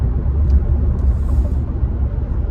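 Car driving past with a low, rumbling road roar, steady and fairly close, fluctuating slightly but never fading out, with no voices.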